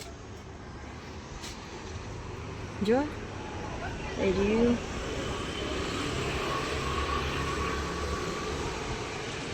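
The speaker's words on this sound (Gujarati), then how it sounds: "એક પેલું વિમાન આવે જો" An airplane flies near an aerodrome. Its engine drone swells and holds steady through the second half, while voices speak briefly over it earlier on.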